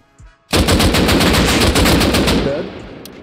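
Rapid bursts of AK rifle fire in the video game Rust, loud and close, with dense sustained shots for about two seconds before tapering off, preceded by a brief quiet moment.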